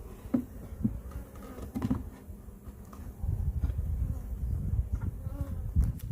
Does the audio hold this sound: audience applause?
no